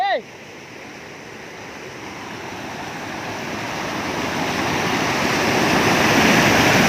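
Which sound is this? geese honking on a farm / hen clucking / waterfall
waterfall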